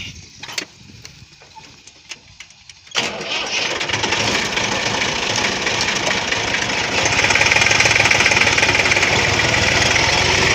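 A 260 tractor engine at a village brick-making site cranks a few times, then catches and settles into a steady, loud, close diesel idle that gets a little louder toward the end.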